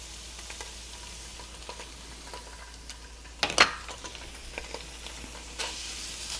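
Garlic and tomato paste fry in a pan, giving a steady low sizzle with scattered light stirring scrapes and one brief louder clatter of a utensil, close and alone without talk.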